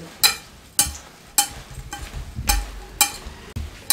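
Spices and turmeric are worked into chopped carrots, lemons and chilies for a mixed vegetable pickle, heard as a steady rhythm of about seven sharp, close scraping strokes.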